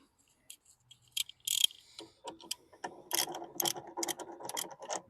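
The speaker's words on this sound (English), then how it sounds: "Switch over to the ratchet." A ratchet wrench works on a sheared bolt in a vehicle wheel, starting with a few scattered clicks. It builds into denser, uneven bursts of close metallic ratcheting, with no speech.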